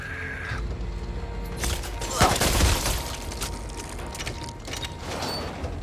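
Gunfire in the video game Back 4 Blood: a burst of rapid shots swells near the middle over steady game noise, with one sharp crack standing out, while voices talk across the clip.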